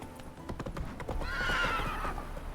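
Geralt's horse Roach in The Witcher 3 clip-clops along with a quick run of close hoofbeats, then gives a loud, drawn-out whinny partway through while the hooves keep going.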